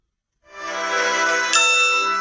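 A bright ding chime from a television advertisement rings out after a short silence, a single sustained metallic tone with a second light strike partway through, heard alone without speech.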